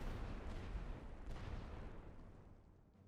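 Heavy artillery barrage in The Great War: Western Front, a dense continuous rumble of distant shelling that slowly fades toward the end.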